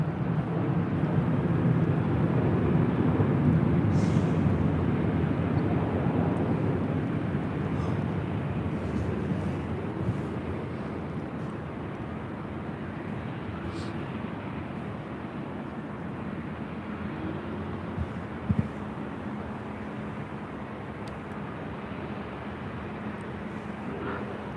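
A Southwest Airlines airliner at LAX gives off a steady, broadband jet roar that is loudest at first and eases slightly as it continues, a constant far-to-mid-distance rumble with no talking over it.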